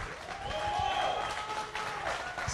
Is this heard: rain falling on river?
no